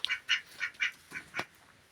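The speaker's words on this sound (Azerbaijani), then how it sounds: "Bu ördək çox yaxşı ördəkdir, mənim xoşum gəlir." An old duck, three or four years of age, quacks nearby in a string of six short, nasal calls at a steady pace, fairly clear with no talking.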